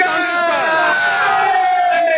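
A dense crowd shouts and cheers loudly and continuously at an election victory celebration outside Polytechnic Jammu, many voices blending into a sustained roar with rising chant-like tones.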